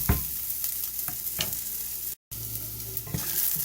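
Onions frying and sizzling in a pan while being stirred, steady close crackle with scraping strokes, a brief dropout midway.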